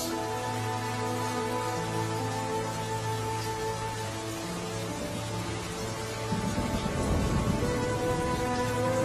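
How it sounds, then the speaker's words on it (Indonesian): Steady rain falls continuously in a dense wash of noise, with a low rumbling swell building toward the end. "Hujan."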